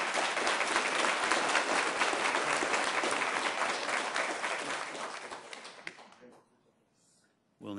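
Audience at a Sioux Falls annexation task force meeting breaks into sustained, loud applause that holds steady for about six seconds, then thins out and fades to near silence.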